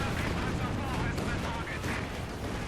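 Dense, continuous artillery and gunfire barrage in Company of Heroes 2 as shells pound a house, a thick rumbling wall of blasts under steady excited commentary.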